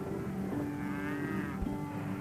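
Cattle grazing on former sugar plantation land in the American South, one drawn-out moo rising and falling over a steady background hum.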